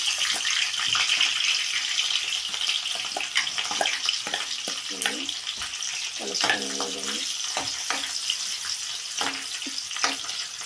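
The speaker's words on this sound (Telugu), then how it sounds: "మిర్చి జీలకర్ర ఆవాలు వేసాను అవి చిటకట అంటున్నాయి కదా ఇగో ఆనియన్స్ వేసుకున్నా అలాగే చిల్లి" Onions, green chilies, mustard seeds and cumin sizzling and crackling in hot oil in a home kitchen, a continuous hiss with scattered pops and someone talking over the frying.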